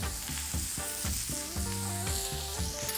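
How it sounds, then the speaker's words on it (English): Four bacon rashers sizzle and crackle in a hot pan, a steady busy hiss with popping fat, heard fairly faintly under background music. "you can just hear that sizzling away there"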